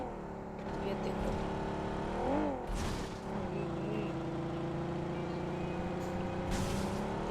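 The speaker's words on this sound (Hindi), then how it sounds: "देख लो भाई क्या खतरनाक चल रही है गाड़ी" A car in the mobile battle royale game BGMI drives along at speed, its engine drone steady and loud with a rising whine as it revs, and a couple of brief whooshing bursts on top.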